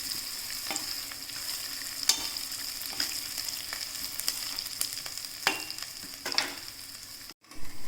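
Shavige vermicelli roasting in hot oil while it is stirred, with a continuous sizzle broken by sharp, irregular scrapes and clicks of the spoon against the pan, close up.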